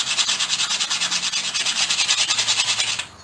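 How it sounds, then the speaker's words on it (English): Coarse sandpaper rubbed over a rusty metal tool, a loud close rasping scrape repeating in fast even back-and-forth strokes for about three seconds before stopping abruptly. "I'm going to take some coarse sandpaper, and there's some big rust on here. I'm going to clean this rust off."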